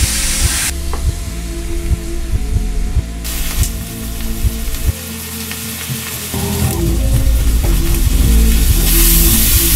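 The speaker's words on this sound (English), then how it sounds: "Sizzle." Onion salad ingredients frying loudly in a pan, a thick continuous sizzle with intermittent stirring scrapes that swells brighter toward the end, with no talk.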